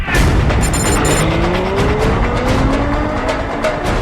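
A 740-horsepower Ferrari F12 in race mode on a circuit roars loudly and continuously, its engine note climbing steadily through the revs, close and dominant with no talking.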